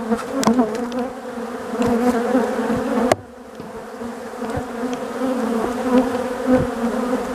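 Honeybees buzz loudly and steadily on a hive frame, a dense close-up hum with brief crackles and one sharp knock partway through, and no voices.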